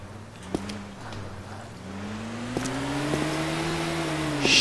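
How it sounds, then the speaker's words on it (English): A truck engine in DayZ drones steadily with a low hum that gradually rises in pitch, accompanied by occasional clicks and a faint rushing background. "Oh, I can hear a truck somewhere."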